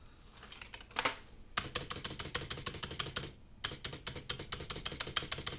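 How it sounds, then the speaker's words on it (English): Mechanical keyboard typing with a rattly Co-Star stabilized spacebar: rapid, close, crisp key clacks in steady bursts, broken by two brief pauses. "Sure, yeah, I love them, except that they're rattly as hell"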